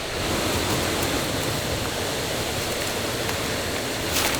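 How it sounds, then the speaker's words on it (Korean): A huge waterfall near Chiang Mai, Thailand, heard from its base as a constant, loud rush of crashing water, a dense, unbroken roar with no voices. "이렇게 올려다보는 폭포가 그 거대한 게 있는 그대로 느껴집니다"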